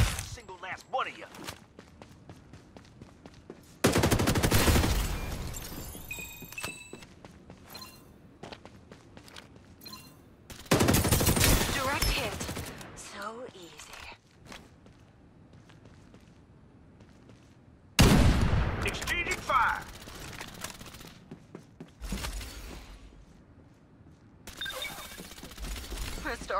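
Gunfire exchange from the video game Farlight84, several loud bursts of rapid shots separated by quieter stretches of footsteps and mechanical clicks, with occasional voice lines in between.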